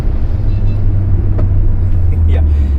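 Hyundai Creta 1.4 turbo petrol with DCT gearbox accelerates hard, a loud, steady low engine drone heard from inside the cabin across the whole stretch.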